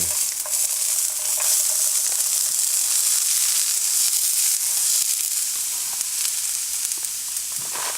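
Vegetables for vegan stuffed peppers land in hot olive oil in a crowded pan and hiss in a loud, continuous sizzle with no voices.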